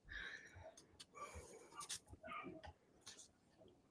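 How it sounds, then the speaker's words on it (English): Excited pet dogs pant and whimper through a room, breathy bursts and short whines coming in uneven rhythm over a low background at moderate volume. "Can you hear my dogs? They're very excited."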